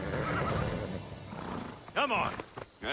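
Horse neighing in the video game Assassin's Creed Odyssey, a short, sharp whinny with a wavering pitch near the end, heard over game sounds and someone talking.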